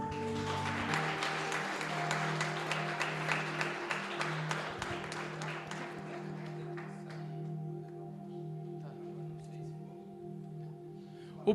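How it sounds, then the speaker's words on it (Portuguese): Church congregation at an Assembleia de Deus family service clapping in a steady, rhythmic beat, moderately loud, with sustained organ or keyboard tones underneath; the clapping fades out over the last few seconds and the music continues alone. "As palmas para o Senhor."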